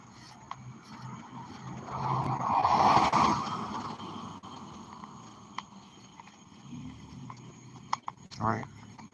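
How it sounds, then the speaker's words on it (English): A car approaches from behind on a road during an outdoor workout; its rushing noise swells to a peak after a couple of seconds, then fades, with a few faint footstep-like knocks near the end. "there's a car coming up behind me."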